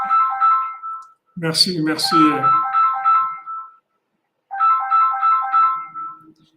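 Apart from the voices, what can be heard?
mobile phone ringtone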